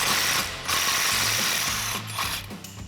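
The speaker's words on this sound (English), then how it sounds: "We're gonna get an 18mm swivel socket" A ratchet with an 18mm swivel socket works a flag nut off a Jeep Gladiator JT steering stabilizer, a continuous close, loud mechanical clicking and grinding that dips for a moment and then carries on.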